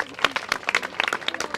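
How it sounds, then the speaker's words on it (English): Audience applause for a city councilor at an outdoor playground ribbon cutting, with scattered individual claps and a few louder hand-claps over murmuring crowd, moderately near and uneven. "Another round of applause for Councilor McCarthy,"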